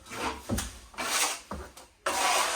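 A plastering trowel scrapes and rubs wet plaster onto a curved wall surface in several short, close strokes separated by brief pauses, loud and clear with no talk.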